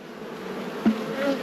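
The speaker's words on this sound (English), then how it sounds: "let's get these boxes blown out. I'd always like giving the bees a little bit of smoke before we do blow them" Honey bees buzzing around hive boxes being cleared with a blower after smoking, a soft steady hum with a couple of individual bees whining past up close.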